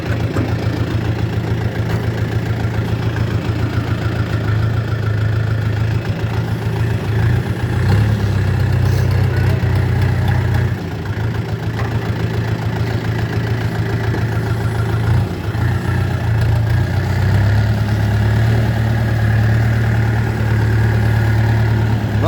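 A two-month-old DTZ 5404 tractor engine idles steadily for over twenty seconds, a low continuous rumble with slight shifts in pitch, close by and without speech.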